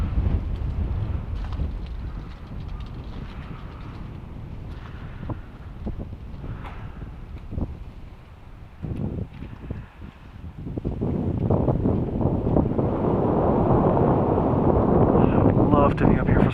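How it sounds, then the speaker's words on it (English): Snowstorm wind rushes and buffets over mountains near Hiroshima and Otake. The roar is continuous and swells louder toward the end, with gusty bumps and fluttering noise hitting a microphone. "there's a snowstorm blowing over Hiroshima right now"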